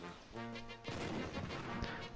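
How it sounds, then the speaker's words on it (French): A cannonball whooshes overhead in the video game AltF4, a loud rushing blast that swells after a tonal opening and carries on dense and booming for about two seconds, with no talk. "On a un boulet de canon qui passe au-dessus."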